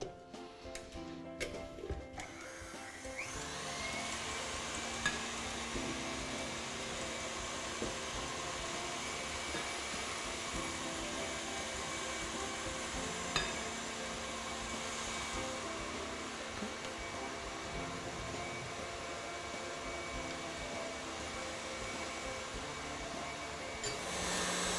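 An electric mixer whips 35% fat crème fraîche into whipped cream for tiramisu, a steady continuous whir running close and loud for most of the clip after a few brief clatters at the start.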